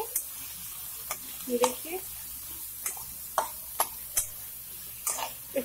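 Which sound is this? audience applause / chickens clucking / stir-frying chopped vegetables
stir-frying chopped vegetables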